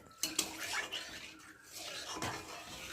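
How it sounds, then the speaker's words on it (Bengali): A metal wok is set down in a home kitchen and rinsed, with two quick clanks at the start followed by a soft, washy rubbing and light scraping noise. "কড়াটা বসাবো আর একটু কড়াটা ধুয়ে"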